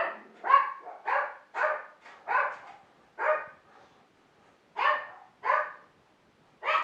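A dog barks repeatedly nearby in a steady, uneven string of sharp, loud yaps with brief pauses between them, and no talking over it.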